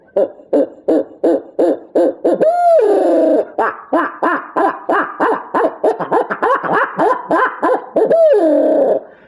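A Knight and Hale handheld call mimics owl hoots in a rapid rhythmic series of short hoots, broken by a couple of longer drawn-out calls, loud and close, for turkey calling.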